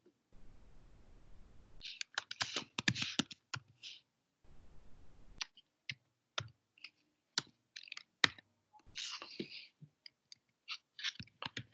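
Computer keyboard keys clicked in irregular bursts, quick sharp taps close by with pauses between, alone and moderately faint.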